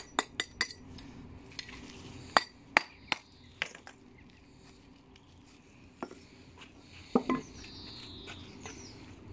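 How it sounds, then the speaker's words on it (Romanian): A bush hammer roughens the surface of a brick with sharp, irregular metallic strikes, some single and some in quick clusters. The blows are close and loud over a quieter background, and no one speaks. "spargem suprafața cărămizii. Aceasta înseamnă să buciardăm."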